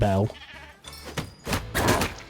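A goat in The Plucky Squire video game gives a short, loud wavering bleat up close, followed by fainter game sounds.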